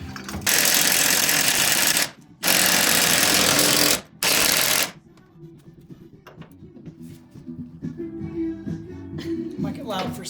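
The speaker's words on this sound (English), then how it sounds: "So I gotta hit it with a grinder." An angle grinder cuts the threads off a leaf spring bolt on a Toyota Tacoma, with three loud harsh bursts of grinding separated by brief gaps. Afterward quieter clanks and scraping follow, and someone speaks.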